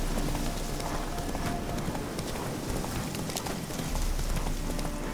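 Roach, a horse in The Witcher 3, galloping with steady, continuous clip-clop hoofbeats over a broad in-game ambient bed, with only faint hints of voice.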